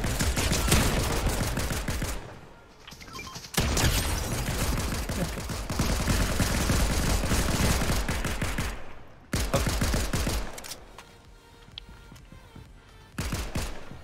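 Rapid gunfire in Fortnite, dense automatic bursts and volleys rattling continuously, broken by short pauses before firing resumes, loud and close.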